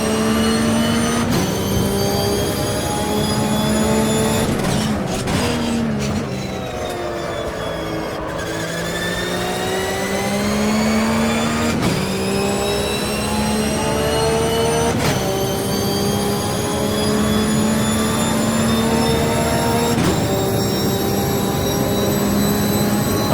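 A Porsche Boxster Cup race car with an H-pattern gearbox on the track at Goiania, its engine droning loudly as it slows under engine braking, pitch sliding down with a few sharp gear-change breaks, and no voices.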